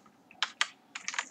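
Quick bursts of computer keyboard typing while code is written, a few isolated keystrokes and then a rapid cluster, close and fairly quiet with no talk.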